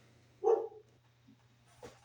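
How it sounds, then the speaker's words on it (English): A single sharp dog bark, fairly close, followed by a quieter yelp a moment later over a low steady hum. "Sorry about that, my dogs are barking."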